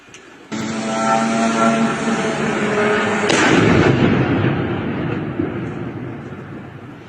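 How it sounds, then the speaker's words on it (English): A Russian drone strike hits an apartment building: a loud, booming explosion erupts suddenly, followed by a second heavy blast and a long rumbling roar that slowly fades. "Okay, so you can see there that massive explosion there."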